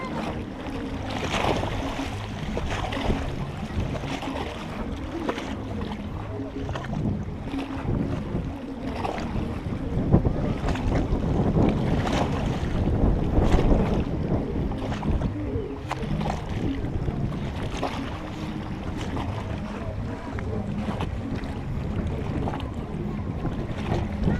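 A strong wind roars steadily across Lake Chila near Mbala, Zambia, a loud continuous rush with buffeting gusts and a swell of intensity midway, no voices present.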